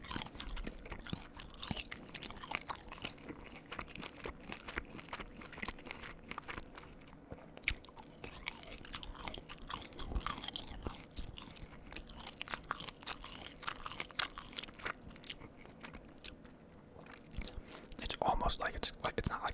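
Close, intimate ASMR chewing of pasta and kielbasa with a few slightly crunchy burnt bits, wet bites and mastication repeating steadily alongside occasional soft whispered talk.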